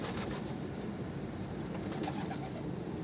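Pigeons of the black and yellow akbaş miski varieties, kept in a loft hit by disease, coo steadily and softly nearby in a continuous low murmur, with no talking.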